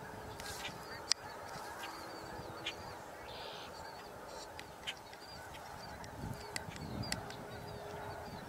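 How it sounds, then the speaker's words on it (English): Snow geese honking over the Knox Marcellus Marsh, a busy chorus of scattered distant calls over steady outdoor background noise, with occasional sharper nearer honks. "Snow geese. More snow geese."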